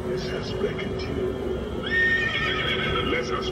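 A horse neigh plays from a headless horseman Halloween decoration, a high whinny rising midway amid hoof-like clip-clop, with people talking nearby throughout.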